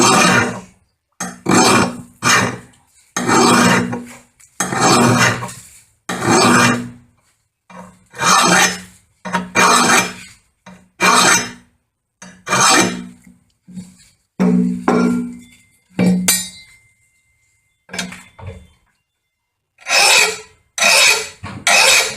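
A hand file rasps against a lawn mower blade in repeated loud strokes, each stroke a short burst of gritty scraping followed by a brief pause, close up and steady in rhythm.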